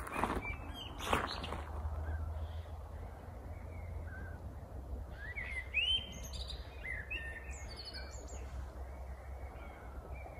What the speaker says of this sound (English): till about 10 o'clock the birds will be singing